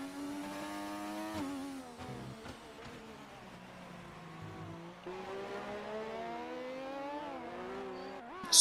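Race car engine in a racing video game at the Bahrain GP, a harmonic whine revving and shifting as the car brakes and accelerates through corners, with a brief tire squeal and a commentator's voice talking over it.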